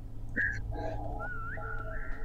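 A person whistles a short, wavering run of notes, close and clear over a low steady hum.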